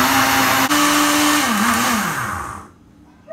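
Blender running at full power whipping coconut mousse before the grated coconut goes in, a loud steady whir whose pitch sags and wavers near the end before the motor cuts off, leaving near silence.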